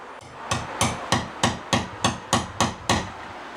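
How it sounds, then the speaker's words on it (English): A hammer strikes wood siding boards nine times in a steady rhythm, each blow sharp and close, with brief pauses between hits. "I can simply just take my hammer and the cat's paw"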